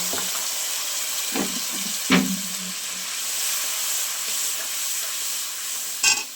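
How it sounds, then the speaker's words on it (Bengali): Water poured into a hot pan with turmeric and chili powder for vegetable khichuri sets off a steady close hiss and sizzle, with a few brief clinks and stirring knocks and no talking. "দিয়ে এখানে একটু জল দিয়ে দিচ্ছি"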